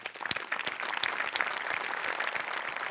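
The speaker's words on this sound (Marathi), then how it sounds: "प्रसाददा, नेहमीप्रमाणे सगळ्यात आधी मोठ्यांसाठी टाळ्या वाजवूया." A studio audience at the Marathi comedy show Maharashtrachi HasyaJatra applauds steadily and loudly for three seconds, a dense, even wash of many hands clapping with no voices over it.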